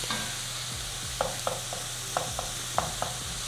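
Pork and aromatics frying in a pan for san choy bow, a steady low sizzle with a few soft clinks and scrapes of stirring scattered throughout, moderately close and without any talking.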